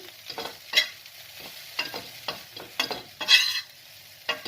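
Okra (bhindi) frying in a pan is stirred with a spatula, giving several scraping strokes over a soft sizzle, close up with no talking.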